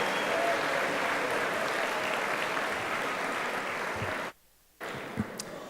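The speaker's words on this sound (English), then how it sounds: "Let's give Mr. Gilbert and our production staff a round of applause for all their work tonight." Guests at an athletic awards banquet give a round of applause for the production staff, a steady, full crowd clapping that runs for over four seconds, cuts out abruptly, then resumes briefly with a few stray claps.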